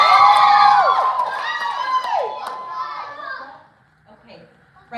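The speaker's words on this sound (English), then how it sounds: "Can you guys cheer her on?" A crowd of excited, high-pitched voices, children among them, cheers and whoops for a girl on stage at a charity dance event, loud at first and then trailing off into scattered calls.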